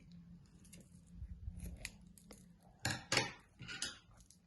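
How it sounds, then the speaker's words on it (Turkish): Scissors snip short lengths of yarn on a crocheted amigurumi squid pillow, a few quiet, close cutting clicks and light rustles at a soft level, without talking. "Sonra bu ipleri arkadaşlar kısa kesiyorum."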